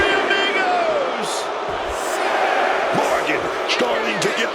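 A crowd roars and cheers in an arena during a women's wrestling match in WWE 2K26, a loud, continuous wash of cheering with shouts and impact thuds, while a commentator talks over it.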